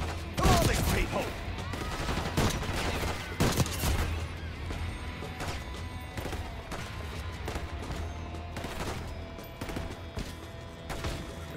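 Gunfire in the Call of Duty: Black Ops 6 video game, in a dictator's palace: loud sharp shots and rapid bursts going off again and again, with some voices calling out between them.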